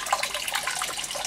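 Water forced by a pump up a vertical pipe and spraying out through small drilled holes spaced every 100 millimetres, a steady broadband hiss and spatter, close and fairly even throughout with no voices.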